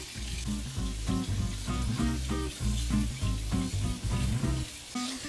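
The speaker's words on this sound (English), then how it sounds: "Bubbling, sizzling goodness." Steak au poivre searing in a pan on a Mini Big Green Egg grill, a loud and steady sizzle crackling and spitting close up without pause, with no voices.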